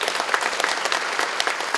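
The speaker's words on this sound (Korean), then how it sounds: "서로 환영의 박수 부탁드리겠습니다." A crowd gives welcoming applause at the opening ceremony of a provincial mental health center, a brisk, dense wash of clapping that stays loud and even across the brief moment.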